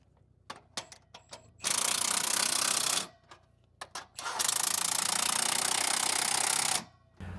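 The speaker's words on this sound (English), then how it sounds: "Dave finally gets to use our new angle grinder with the cutoff wheel" Angle grinder with a cutoff wheel slicing through bolt ends at a culvert, two loud sustained grinding bursts of about one and a half and two and a half seconds, with clanks and taps of metal between them.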